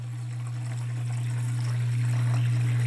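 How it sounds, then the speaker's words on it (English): Coolant pump on a Syil X4 CNC machine pouring water through tubing into its reservoir at full flow, a steady close hiss of running liquid over a strong constant low pump hum, with no talking. "filling up the reservoir"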